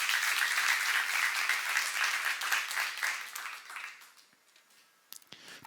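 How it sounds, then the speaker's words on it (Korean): A congregation at a church teaching session breaks into a burst of clapping that holds steady for about four seconds, then dies away to silence before a couple of sharp knocks. "믿는 사람만 박수 하세요"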